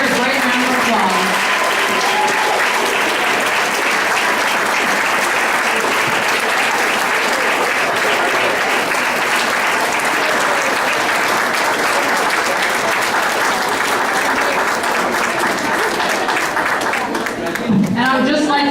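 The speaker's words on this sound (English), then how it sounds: "let's give all of our teachers and paraprofessionals of the year a great round of applause" Applause at a board of education meeting honoring teachers and paraprofessionals of the year: loud, continuous crowd clapping that holds steady for the full stretch and fades slightly at the end.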